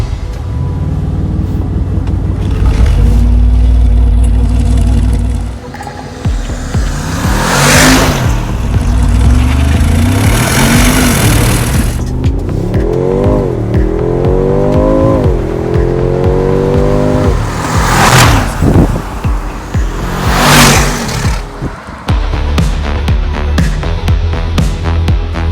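A 2025 Mercedes-AMG G63 SUV engine revs and accelerates with rising, shifting tones, punctuated by loud bursts and crackles, alone without any talking.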